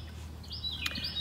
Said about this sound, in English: sorry about the birds making noise,